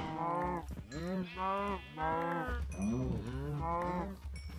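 Cows in Minecraft moo repeatedly, a string of five or six close, loud, drawn-out lowing calls in quick succession with brief gaps between them.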